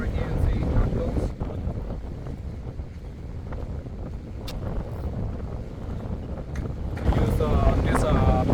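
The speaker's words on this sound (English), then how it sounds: "Really windy day, so I'm gonna try fishing right here and see how it goes." Strong gusting wind at a lakeshore while bank fishing, a loud rough buffeting roar on the microphone that swells and eases throughout, with a brief voice-like tone near the end.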